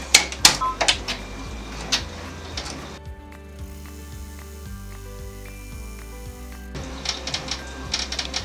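An embroidery machine stitches a tack-down line on felt for a Halloween treat bag. Rapid mechanical needle clatter at the start and end surrounds a steadier stretch of stepped motor whine, close and moderately loud, with no voices.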